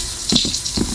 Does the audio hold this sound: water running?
yes